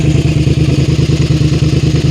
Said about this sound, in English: Give it a rev once in a while.